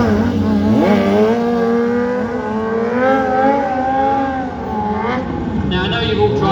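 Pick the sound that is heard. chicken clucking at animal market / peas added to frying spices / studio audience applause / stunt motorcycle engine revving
stunt motorcycle engine revving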